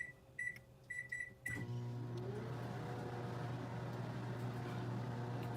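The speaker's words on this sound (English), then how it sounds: "So we're gonna microwave this till that cheese is nice and melted on top" A microwave oven heats a cheese-topped dish to melt the cheese, opening with a few beeps before the steady, loud hum of the running oven takes over and continues throughout.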